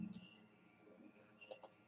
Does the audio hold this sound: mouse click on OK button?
yes